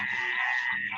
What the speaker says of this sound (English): The frogs be over here.